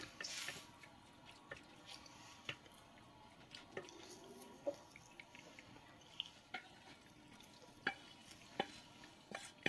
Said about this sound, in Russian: примерно половину сыра добавлю сейчас к макаронам и вмешаю в массу